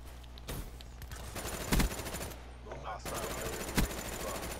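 Bursts of FFAR rifle fire ring out in Call of Duty: Black Ops 3, rapid automatic volleys broken by short pauses, with two heavier thumps standing out, while a player talks over the shooting.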